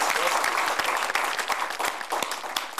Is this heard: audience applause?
yes